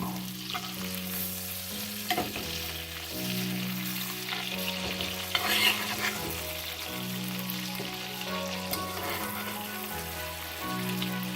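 Sirloin steak searing in a pan with butter, herbs and shallots, giving a continuous close sizzle and crackle with occasional spatters, set under soft background music.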